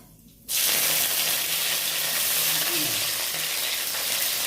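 Mustard seeds and onions frying in oil for a Catla fish curry: a sudden loud burst of sizzling after a brief quiet moment, then a steady close hiss with faint crackles.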